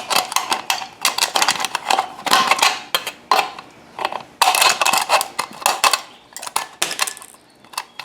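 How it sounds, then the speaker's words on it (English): Tin snips cut through landscape weed barrier fabric with dense metallic snipping and crunching, close and loud, in quick irregular bursts with brief pauses between runs of cuts. "Let's try a pair of tin snips."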